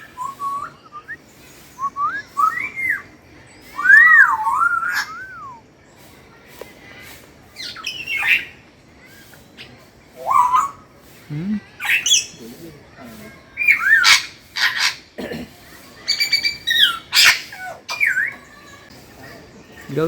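Parrots at Hanthana Bird Park in Kandy let out repeated loud squawks and rising whistles nearby, in irregular bursts with short quiet gaps between calls.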